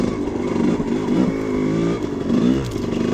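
A Honda CR250 two-stroke dirt bike engine rises and falls in pitch as the rider works the throttle along an overgrown trail, loud and close with a raspy buzzing drone.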